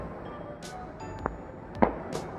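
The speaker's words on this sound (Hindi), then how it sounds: "ये देखो आज पटाखा ही पटाखा सब तरफ फूटे जा रहा है।" Firecrackers bursting all around during Diwali celebrations, a few sharp cracks and pops of varying distance over a steady outdoor background rumble.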